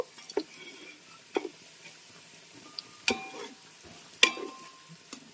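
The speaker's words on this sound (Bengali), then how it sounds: "এটা আমি হালকা করে কাজু বাদামটা ভেজে নেবো" Cashews and raisins frying together in oil in a kadai for chicken biryani, a faint, low sizzle broken by a few sharp clinks and scrapes of a spatula, with no talking.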